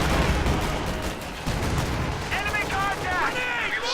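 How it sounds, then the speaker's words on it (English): Rapid bursts of Stuka rocket artillery fire in a World War II strategy game rumble and crack over a noisy battlefield, with heavy repeated blasts and a whistling, wavering tone near the end. "Stuka, however, is firing in the area"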